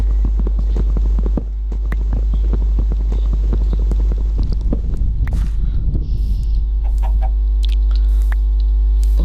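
Chickens cluck in the Minecraft video game over a steady low game hum, with many short repeated clucks through the first half that thin out toward the end.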